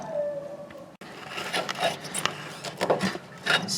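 A sharp chisel cuts through a rubber rear suspension bushing on a Chevrolet Suburban, giving several short, close rasping and scraping strokes in an uneven rhythm after a brief pause.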